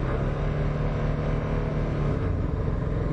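Motorcycle engine held steady at about 4000 rpm with the throttle locked, a dense, even mechanical drone running unbroken at close range with no speech.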